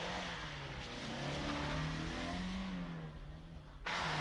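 A 1988 Opel Kadett GSI rally car's 2-litre 16-valve, 156-horsepower engine revs hard under load, its droning note rising and falling before cutting off abruptly near the end.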